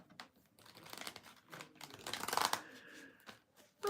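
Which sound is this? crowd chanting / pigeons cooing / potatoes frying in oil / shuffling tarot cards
shuffling tarot cards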